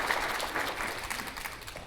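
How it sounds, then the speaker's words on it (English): Audience applause at a school district event, a steady wash of clapping filling the room at moderate volume with no voices over it. "So let's give another big round of applause to that group for working really hard in that."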